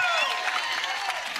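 A crowd at a pickleball match at the Selkirk Red Rock Open applauds and cheers in a brief, steady burst of clapping and voices, heard from the court area.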